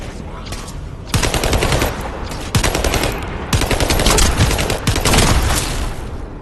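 A summoned turret in The First Descendant firing rapid automatic bursts, loud dense rattling gunfire that stops and restarts in several blocks, with game effects underneath.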